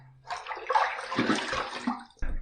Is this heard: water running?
yes